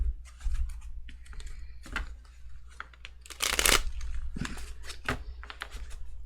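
Slippery tarot cards are shuffled and handled in a run of crisp, uneven riffles and flicks. A louder burst of shuffling comes in the middle, close and in a quiet room.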